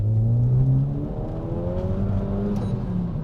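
A Renault Megane R.S. 280 hot hatch accelerates flat out. The engine note climbs steadily and loud, then settles into a sustained high drone close by, with no voices.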